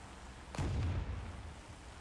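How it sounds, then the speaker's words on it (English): Type 75 tank cannon firing in a video game: a single sharp, distant boom at about half a second, followed by a rumbling decay over low background noise. "Is that a Type 75 shooting at me?"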